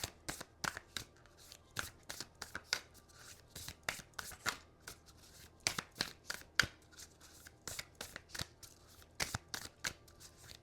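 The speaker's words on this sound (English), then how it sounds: "Pull one more card from my Earth Warriors deck" An Earth Warriors oracle card deck is shuffled by hand, with close, crisp riffling bursts repeating in an irregular rhythm throughout and no talking.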